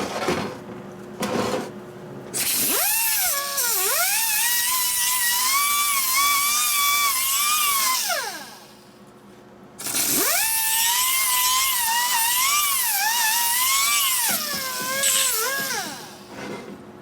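Rotary tool deburring a cylinder fin on a 1983 80ci shovelhead engine, two sustained high whining grinding passes that rise and dip in pitch under load, close and loud with a short pause between them.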